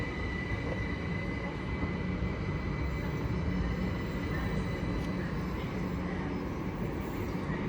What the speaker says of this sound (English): 1509 Southern service from London Victoria to Epsom Downs at 701026 heads off.